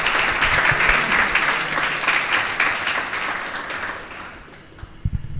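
An audience at a talk bursts into sustained applause, with dense clapping that stays loud and steady before thinning out near the end.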